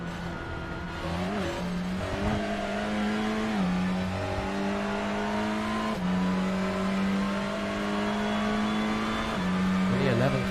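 Race car engines howl around the Imola circuit in a sim racing game, a steady high-revving drone with gear changes and pitch swells throughout, heard under commentary.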